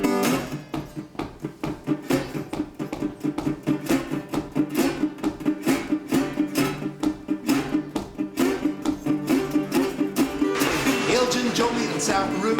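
Musical imitation of a steam train rolling at full steam: dense, driving rhythmic strumming with steady chugging pulses, loud and continuous, building brighter toward the end with no voice.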